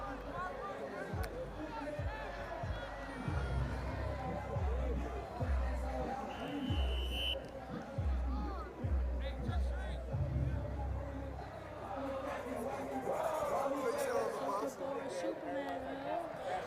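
A loud crowd sings and chants in the stands at a high school varsity football game, echoing across the field under close commentator talk, with rhythmic low thumps and a cheering swell.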